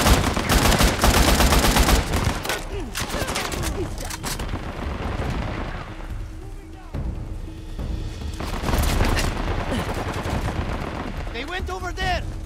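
Heavy gunfire in the action game Uncharted: The Lost Legacy, loud rapid automatic bursts up front that thin into scattered shots and booms, with voices shouting over the fight.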